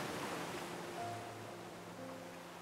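Seaside surf at night rolls in as a continuous, gentle wash of waves, fairly quiet and even, easing off a little after the first second, with faint steady tones underneath.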